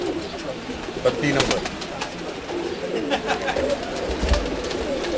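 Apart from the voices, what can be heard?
pigeons cooing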